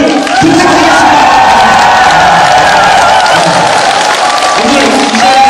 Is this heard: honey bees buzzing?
no